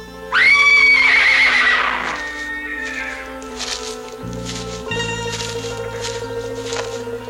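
A horse whinnies loudly and close by in a long, shrill neigh that fades after about two seconds, followed by quieter stable background noise.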